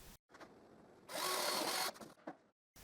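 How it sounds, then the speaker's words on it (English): A power drill bores guide holes into pallet wood, with one sustained whirring burst of under a second framed by brief starts and stops, close and fairly loud, with no voices. "I drill the guide holes"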